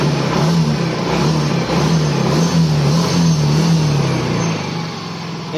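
A Yamaha Mio i 125 scooter engine, just after a throttle body service, revs steadily and loudly up close, its pitch rising and falling slightly over a continuous drone with no one talking.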